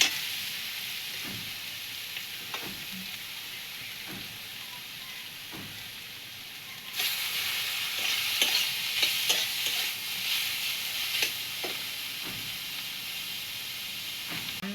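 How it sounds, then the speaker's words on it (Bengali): Grated kohlrabi hissing and sizzling in hot oil in a wok, with repeated scraping stirs; the sizzle grows louder about halfway through as the stirring picks up. No voices. "ওলকপিটা গেটারে কেটে রেখেছিলাম, এটা কড়াইয়ের মধ্যে দিয়ে দিচ্ছি"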